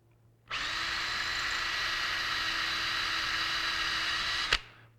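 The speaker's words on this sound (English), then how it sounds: "I'm going to come down here and drill the end hole of this set of 4." A power drill bores an end hole through a Kydex sheath, running at a steady whine for about four seconds before cutting off abruptly, close and loud with no talking.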